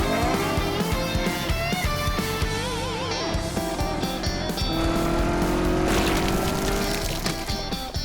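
A cartoonish car engine revs and climbs in pitch, with squealing tires, in a dinosaur-car cartoon, amid a loud, dense mix of music and effects.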